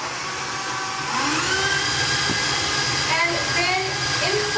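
A whirring electric hand mixer beats orange flavoring into chocolate batter in a bowl, a steady motor drone that grows louder after a second, with a person speaking briefly over it.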